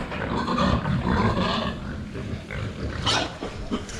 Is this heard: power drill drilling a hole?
no